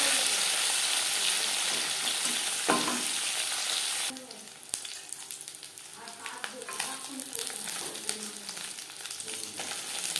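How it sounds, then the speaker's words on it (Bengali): Katla fish pieces fry in hot oil, a loud broad sizzle that drops sharply partway through as the fish is turned, then continues as a softer crackle with intermittent spatters and light scraping. "মাছ একটা সাইড ভাজা হয়ে গেলে অপর সাইডটা উল্টে দেবো।"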